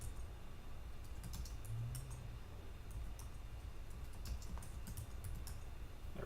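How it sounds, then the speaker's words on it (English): Fast typing on a computer keyboard while configuration files are edited: a steady stream of quick, light key clicks with bursts of rapid keystrokes over a soft background hum, close to the microphone, with no talking. "I know I'm typing really quick."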